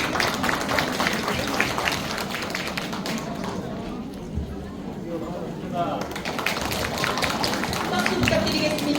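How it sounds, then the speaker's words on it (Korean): Audience applause welcoming a doctor and NGO president onto the stage for a lecture on happiness and volunteering at a Korean community event, a steady broadband clatter of many hands that dips midway and then swells again. "박수로 맞이해 주시기 바랍니다"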